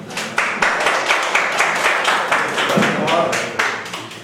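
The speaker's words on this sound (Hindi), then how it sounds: "ताली तो बजा दो यार" Audience members at a music channel launch event in Mumbai clap in a brisk, irregular burst of applause, with loud, close sharp slaps continuing for a few seconds while voices can be heard under it.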